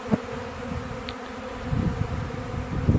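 A thick, continuous drone of hundreds of honeybees buzzing nearby, swelling slightly in places, with no voices.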